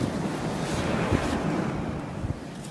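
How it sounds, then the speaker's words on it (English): Ocean waves wash onto Falmouth beach as a close, continuous roar of surf, steady and loud, mixed with wind buffeting the microphone and no voices. "And the waves and the beach"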